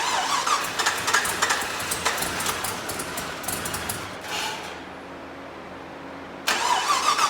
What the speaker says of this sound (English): Oh, it's doing a misfire and stalling.